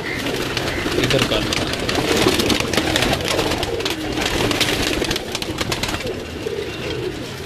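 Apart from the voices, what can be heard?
pigeons cooing on a rooftop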